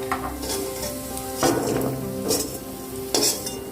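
Raisins roasting in a pan for poha laddoos, with a soft frying sizzle and a few louder scraping strokes of a spoon against the pan, no voices.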